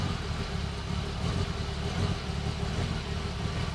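A 1967 Ferrari 275 GTB/4 engine runs steadily at a constant rumble with no change in revs, loud and close, with no other sounds over it.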